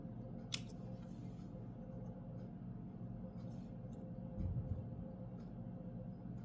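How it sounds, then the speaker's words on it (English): Paper or cardstock being trimmed with scissors for a Stampin' Up handmade card, a short sharp snip near the start followed by a few fainter cutting sounds against a low steady background hum. "So I'm going to just trim some of this off."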